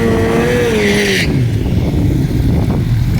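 A Kawasaki ZX14 and a Honda CBR 600 drag racing motorcycle at a drag strip, a rising engine whine sweeping up then cutting off abruptly after about a second, followed by a dull low rumble of idling and distant track noise.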